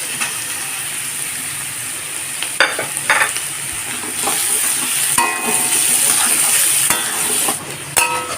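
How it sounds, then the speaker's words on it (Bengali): Carrots, cashews and raisins frying in a pan with a continuous close sizzle, broken by several sharp metallic scrapes and clanks of stirring, with no voices. "গাজর কাজু কিশমিশ সব ভাজা হয়ে গেছে"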